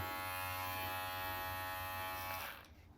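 A steady electric buzz from a Wahl Lithium Pro lithium-ion cordless hair clipper running close by, constant and even before it cuts off near the end.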